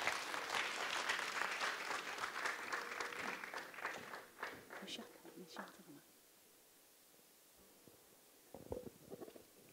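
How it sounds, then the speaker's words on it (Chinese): An audience at a lecture-hall talk applauds to welcome an honorary professor and academician to the stage. Loud, sustained clapping for about six seconds fades to near quiet, and then a short burst of clapping returns. "请大家给他一个热烈的掌声"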